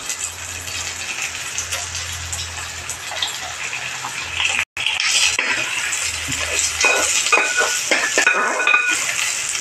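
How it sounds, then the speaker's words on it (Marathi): Soaked, washed uncooked rice dry-roasted in a pan for pineapple sweet rice, with steady scraping, rattling grain noise and light metallic clinks of stirring running throughout, briefly pausing midway. "हे आता मी तांदूळ भाजून घेणार आहे"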